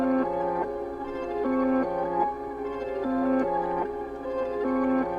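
Two processed piano melodies layered together: a reversed vintage-toned line under a half-timed EQ'd line with boosted mids and trimmed lows. They form slow, stepping chord changes at a steady moderate volume, with nothing else heard.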